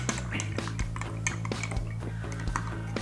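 Stirring boiled milk with added jaggery in a cooking pot gives repeated light clinks and scrapes of a utensil against the pot, steady and close over a low background hum.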